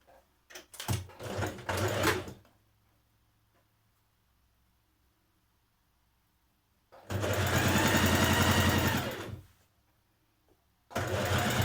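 A sewing machine runs in two bursts while shoulder seams of a top are stitched: a short stuttering run, then a long steady whir, then it starts again after quiet pauses.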